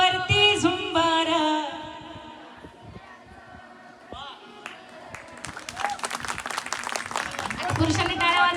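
An audience claps along at a Marathi folk song performance. The crowd breaks into fairly loud, dense clapping after a stretch of singing and chatter, keeping it up to the end.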